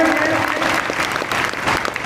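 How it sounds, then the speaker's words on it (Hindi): A seated audience claps steadily to welcome a young girl onto a stage at a motivational talk, a brisk, even patter throughout with a voice speaking faintly underneath. "और भी कोई सब तालियां बजाकर स्वागत करिए।"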